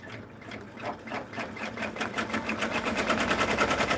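Embroidery machine stitching out a book nook or device sleeve design in an easy frame, a fast steady mechanical needle rhythm that runs loud and alone, with the pulsing speeding up slightly over time.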